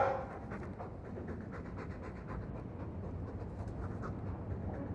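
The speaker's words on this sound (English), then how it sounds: "I'm sick of what's-his-name staring and panting." Mabari war dog in the video game Dragon Age II panting steadily and close, a continuous breathy rhythm over a low rumbling background, with no talk.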